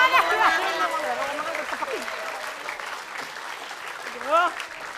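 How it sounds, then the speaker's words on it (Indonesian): Applause from a crowd, with voices and laughter layered over the clapping throughout. "Tepuk tangan untuk mantan si baik"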